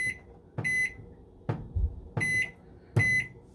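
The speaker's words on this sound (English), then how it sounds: "Let me hit my timer." Button beeps as a timer is set on a press during tumbler sublimation, four or five short electronic chirps at irregular intervals, close and clear with no talking.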